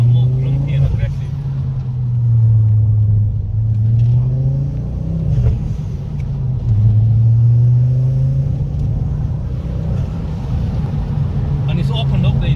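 A Ford Focus ST with a new exhaust idles with a deep, grumpy rumble and swells in short revs, loud and close, while people talk over the engine throughout.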